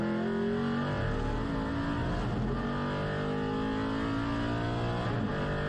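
A naturally aspirated 4.7-litre V8 race car engine pulls hard under power onto a straight at a circuit, a steady, loud, deep rumbling drone heard from on board, unbroken for several seconds with no voices.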